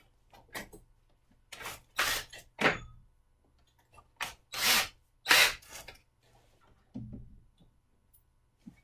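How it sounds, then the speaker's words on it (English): Several short bursts of a drill whirring into wood, separated by pauses, with a soft thunk near the end. "then drill your pilot hole"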